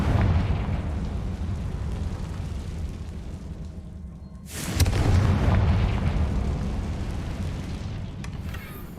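Confringo spell blasts in Hogwarts Legacy: a sustained rumbling roar, then a sharp new loud burst midway that swells and slowly decays, heavy low-end booming throughout with no voices.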